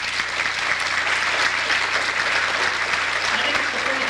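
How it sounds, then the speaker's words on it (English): A large audience applauds at a Halloween concert, a dense, loud and continuous wash of clapping with crowd voices mixed underneath. "Let's have a big hand."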